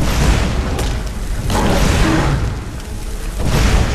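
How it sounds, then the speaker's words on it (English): A fire spell in Skyrim bursts into a heavy, roaring boom, a dense rumbling blast that swells and fades in waves across a few seconds. "I'm gonna use firebolt,"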